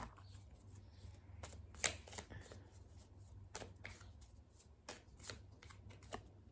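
Affirmation cards are shuffled in a run of crisp, uneven riffles and taps, close and fairly quiet, with no talking.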